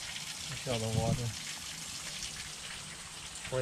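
Nearly two inches of collected rainwater gushes steadily out of a truck in a faint, continuous rushing wash, with a brief voice speaking over it.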